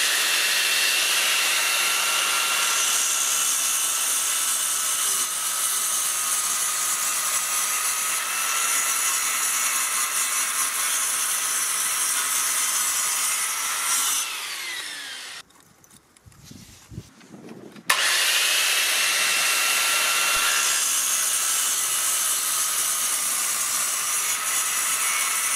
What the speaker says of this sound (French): Là je vais faire un petit test avec l'aspirateur de Parkside sans fil.